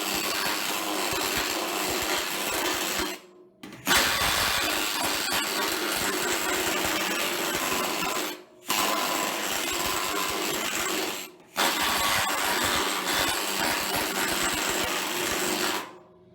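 An OX planishing hammer shapes a sheet metal panel for a car with loud, steady, rapid mechanical hammering that runs in long stretches broken by a few brief pauses, with no talking.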